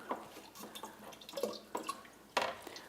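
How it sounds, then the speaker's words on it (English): Water squeezed from a turkey baster onto a garden plant, giving small, irregular drips and soft splashes at close range, faint and spaced apart. "If you do need to water it, using a turkey baster with a little water in it,"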